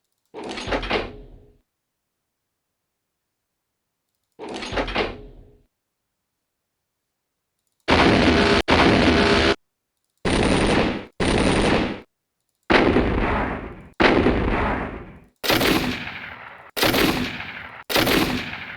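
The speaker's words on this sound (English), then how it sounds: "This is when the weapon reloads." Heavy mech weapon reload sounds from MechWarrior 4: first two short isolated blasts, then a string of loud, even bursts separated by brief silences.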